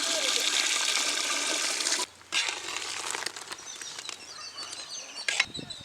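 Ground coconut milk and measured water are poured into the rice for a drumstick biryani, a steady close gushing pour for about two seconds, then a break and a lighter trickle with small clinks.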